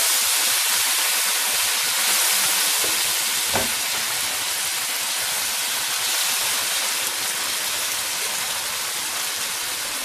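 Chicken macaroni with masala and soy sauce sizzles and fries steadily in a pan, with a dense, close crackle and one brief clink of stirring partway through, no voices.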